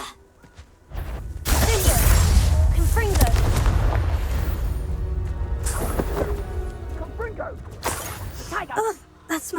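Confringo fire spell explosions in Hogwarts Legacy, a loud rumbling blast that swells and lingers for several seconds, with crackling debris and a voice talking over it.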